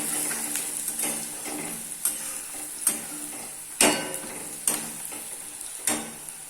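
Onions and masala frying in a pan for chole bhature, a steady sizzle broken by regular scraping stirs and spoon knocks against the pan, close and without voices.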